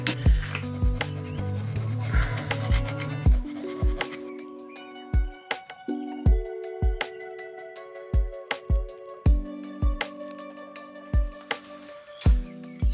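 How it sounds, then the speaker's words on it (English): Abrasive rubbing pad, starting at a coarse 60-80 green grade, scrubbed over a hand-carved stone icon in steady rhythmic strokes, close and crisp, with a soft melodic tone underneath. "we're now down to rubbing, and we go through different grades of rubbing pad, starting with a 60 to 80 green"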